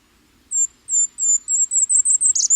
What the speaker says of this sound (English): And we can listen to sounds of the bird.